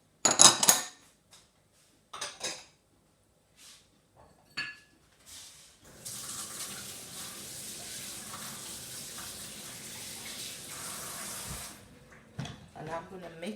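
Four eggs with vanilla and nutmeg are beaten in a bowl: a few scattered clinks of utensil on dish, then several seconds of continuous brisk whisking and scraping before more clinks.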